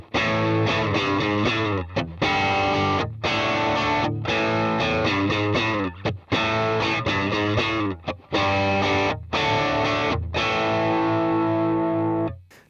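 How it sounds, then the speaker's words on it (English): Electric guitar through a crunch overdrive pedal, a Wampler Dual Fusion, plays a chunky riff of sustained chords and short stabs with a crunchy overdriven tone, loud and continuous with brief gaps. "this is basically my go-to setting for when I want kind of a crunch sound on channel 1"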